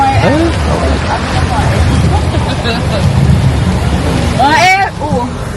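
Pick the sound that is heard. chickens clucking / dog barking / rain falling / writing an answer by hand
rain falling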